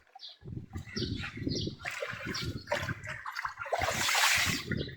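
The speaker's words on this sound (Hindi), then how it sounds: "देखो भाईजान कितनी स्पीड से पानी जा रहा है।" Water gushes fast from a village water source, a rushing, splashing flow with uneven surges that build louder toward the end.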